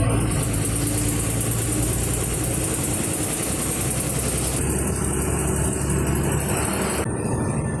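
A KSRTC bus idles before departure on a route to Pulinkunnu village in Alappuzha. A loud, steady engine rumble runs without a break throughout, close and continuous.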